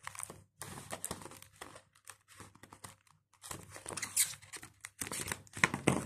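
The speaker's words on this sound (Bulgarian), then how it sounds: "Отварям с моята ножица на Стич" A package is cut open with Stitch-themed scissors, giving a run of close crinkling and crunching plastic bursts with short pauses between them and no talking.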